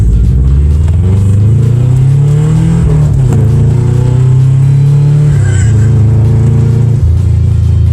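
A Subaru Outback's 2.5-liter EJ252 engine revs hard and holds high, a loud, steady rumbling drone with rising and falling pitch, no talk.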